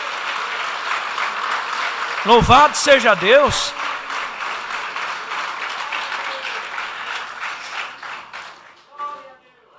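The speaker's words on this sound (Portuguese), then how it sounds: "Pode aplaudir, isso é para ele, não é para mim" A church congregation breaks into applause, a dense burst of clapping lasting a few seconds, while a preacher's amplified voice speaks over it before the hall settles into quieter murmur.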